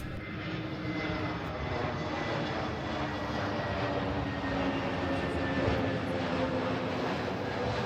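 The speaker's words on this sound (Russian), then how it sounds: "Самолеты заходят на посадку постоянно, и именно над Цавтатом." An airplane on landing approach over Cavtat, Croatia, near Dubrovnik airport, roars overhead in a steady, loud engine drone that fills the whole stretch without letting up.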